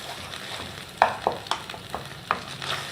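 Bread halwa mixture roasting in ghee, with several distinct scraping stirs of a spoon against the pan over a soft, low sizzle, close and fairly quiet.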